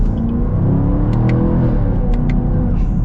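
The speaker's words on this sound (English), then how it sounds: "I think this exhaust is just as obnoxious and rowdy as that 1LE." A 2024 Chevy Camaro 2SS, in manual mode, accelerates close up, its V8 engine and loud, rowdy exhaust rumbling and rising in pitch through a continuous, throaty roar.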